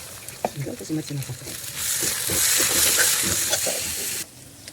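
Turmeric being stirred into a dish of doda cooking in a pan, with a steady close sizzle and frying hiss that swells through the middle, scraping stirs throughout and a voice talking over it.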